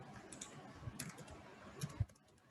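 Quiet typing on a computer keyboard, a short irregular run of soft key clicks with a couple of sharper taps near the end, close and alone.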